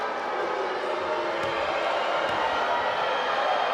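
A basketball crowd jeers a free throw shooter with Bronx cheers during a Canterbury Rams versus Taranaki Airs game. The arena roar is a steady, dense wash of massed voices that holds without a break.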